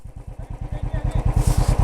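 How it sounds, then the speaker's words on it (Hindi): A motorcycle engine running nearby at the Haldi Ghati battlefield, a fast regular low thudding pulse that grows louder and slightly quicker, with a hiss of wind or noise toward the end. "अरे बाइक ले आओ"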